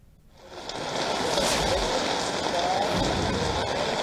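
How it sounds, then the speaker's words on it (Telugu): Heavy rain pours steadily over Hyderabad after a quiet start, a dense constant hiss of drops on surfaces throughout. "నగరంలో మరొకసారి వర్షం దంచి కొడుతుందని చెప్పవచ్చు"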